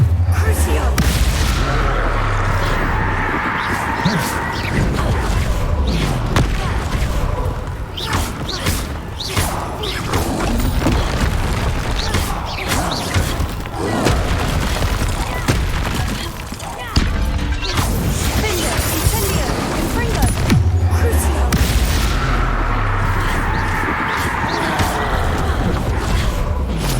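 Blasting-spell explosions go off repeatedly in Hogwarts Legacy, booming crashes and whooshes packed into dense, continuous combat. A voice is heard now and then over the noise.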